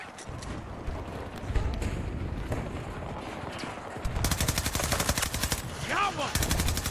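A PP29 submachine gun fires rapid full-auto bursts in Battlefield 2042, scattered shots and distant gunfire at first, then loud sustained close bursts with brief pauses.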